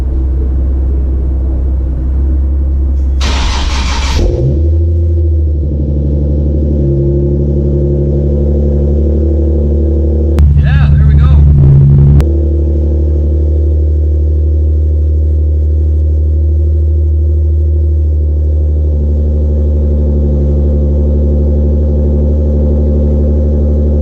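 A Nissan 370Z engine runs steadily at close range with a deep, even idle hum, broken by two brief bursts of higher-pitched noise.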